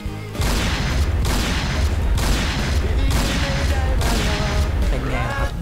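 Rapid video game gunfire triggered by a mouse macro on a Razer DeathAdder 2013: loud, steady bursts of shots in about five evenly spaced waves, close and dense, with no talk.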